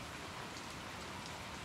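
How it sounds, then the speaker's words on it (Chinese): Heavy rain falling at night, a dense, steady wash of downpour with no breaks and no voices. "看这黑灯瞎火，这么大雨能瞅见啥呀？"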